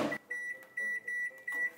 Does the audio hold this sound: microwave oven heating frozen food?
yes